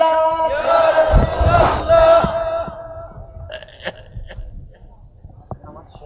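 Worshippers at a Bengali Islamic mahfil shout a loud collective takbir response in a burst of massed voices, then fade to scattered murmurs and a few distant calls.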